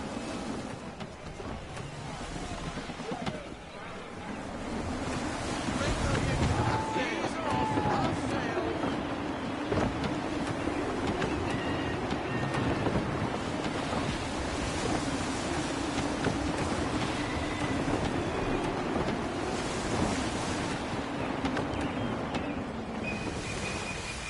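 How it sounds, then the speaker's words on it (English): Gusty wind rushes around a sailing ship in Assassin's Creed 3, a continuous roar mixed with waves and hull noise, swelling louder after the first few seconds and staying steady under faint background sounds. "Wind looks to be shifting. Stay alert, Connor. Gusty winds can be difficult to manage."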